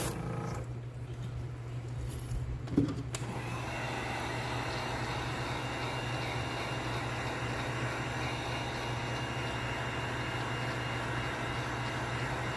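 A heat gun blows steadily over a freshly painted fishing lure to set the paint, giving a constant whirring hiss with a low hum after a brief click near the start.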